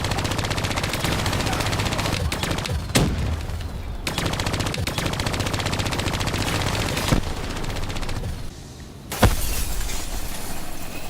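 Hijacked turrets in Call of Duty Black Ops 3 pour out continuous loud machine-gun fire, punctuated by a few sharp impacts or blasts, with occasional voices under the din.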